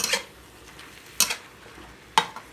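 Vegetables being stir-fried in a pan, with three short, sharp bursts of scraping and clattering spaced about a second apart over a quiet background.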